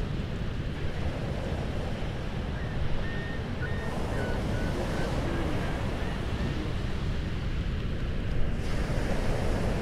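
Ocean waves surge and wash over intertidal rocks on a wild coast, a steady roaring wash of surf with gentle swells in intensity, mixed with some wind noise and no voices.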